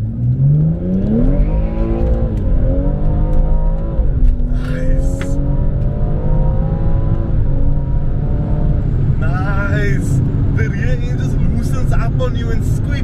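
A BMW M240i accelerating hard while driving, the engine note climbing and dropping through several gear changes with loud rising tones, heard from inside the car with talking over it.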